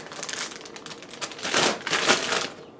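A zip-top plastic bag of raw dog food being sealed by hand: a few seconds of close crinkling and rustling plastic with small clicks, alone without talk.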